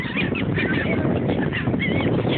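Geese or similar waterfowl honk at a beach on Mustang Island, giving repeated nasal calls over a dense, continuous noisy background, close and loud throughout.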